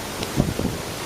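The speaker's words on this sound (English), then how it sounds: "That was a big gust of wind there." A broad, noisy roar of wind from Hurricane Matthew buffets the microphone, close and loud for a brief second.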